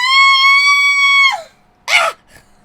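A high, sustained scream in the video game Danganronpa 2 rings out for over a second, then trails off, followed by a short sharp burst of noise and a faint blip.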